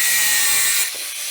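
A part for an air cleaner is cut off with a tool, producing a loud, harsh hissing grind that holds steady for under a second before cutting out.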